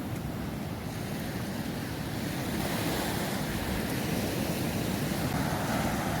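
Surf rolls steadily onto a sandy beach in the Dominican Republic, a continuous loud wash of breaking waves with some wind buffeting the microphone and no talking.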